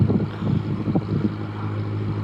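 A narrowboat engine runs with a steady low diesel throb, rising slightly as it revs, close by with some wind noise and no talk.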